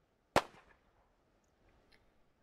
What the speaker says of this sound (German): Ist das ein Bug, dass alle Granaten so einen kleinen Knall von sich geben, wenn sie gerade losgehen?